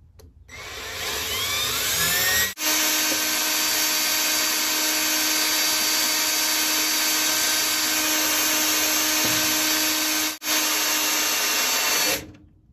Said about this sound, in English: I'll let the drill do the work.